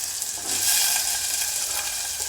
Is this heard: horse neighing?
no